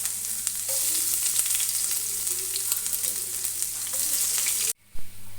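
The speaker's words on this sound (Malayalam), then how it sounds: "പാനിലേക്ക് തന്നെ കുറച്ച് എണ്ണ ഒഴിച്ചിട്ട് ആദ്യം കുറച്ച് ഇഞ്ചി വെളുത്തുള്ളി ഇട്ട് കൊടുക്കുക" Ginger and garlic sautéing in oil in a pan, an even, dense sizzle with light crackles that cuts off abruptly near the end, followed by a brief clatter.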